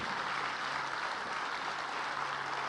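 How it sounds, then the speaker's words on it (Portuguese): A church congregation gives a faint, even round of applause to the Lord, soft continuous clapping heard from a distance for a few seconds. "Você pode dar uma salva de palmas ao Senhor?"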